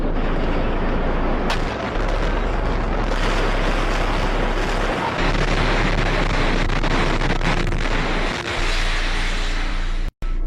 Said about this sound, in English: you hear a successive, progressive, smaller waves of smaller explosions going off